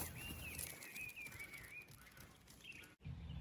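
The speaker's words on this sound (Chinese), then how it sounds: "又遇到画眉了，这叫声真好听啊！" A Chinese hwamei thrush sings in the countryside, a clear, high whistled phrase with rising and falling notes, moderately close over faint background noise, then a brief gap.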